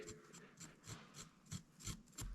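A GM 5.3/6.2 high-pressure fuel injector scrubbed lightly with a Scotch-Brite pad to remove carbon, a soft rhythmic rasping of about eight back-and-forth strokes, close and quiet.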